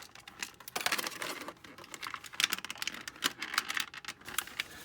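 Scissors snipping the plastic bands on Mattel MOTU Origins He-Skeletor action figure packaging, a run of close, sharp clicks and crinkly cuts at an uneven pace with no talking.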